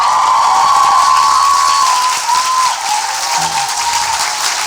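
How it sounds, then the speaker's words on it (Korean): Loud, sustained audience applause fills a hall at the close of a Korean political interview show, dense clapping that holds steady then slightly eases toward the end, with no talking. "박수로 이 인터뷰 끝내겠습니다."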